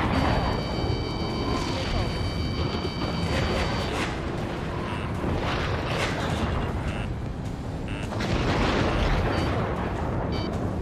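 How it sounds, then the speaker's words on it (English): Ace Combat 7 air combat with a missile warning and explosions: dense, continuous rumbling blasts and booms with steady high warning tones in the first few seconds, loud throughout with a voice mixed in. "Warning, missile! Missile in the air!"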